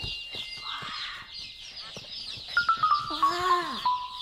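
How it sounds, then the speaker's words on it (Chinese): Ducks and chickens in a farm pen give short quacking and clucking calls that come up close and fairly loud, with a few squeaky honking notes near the end over steady background noise. "哇，有鸭子！"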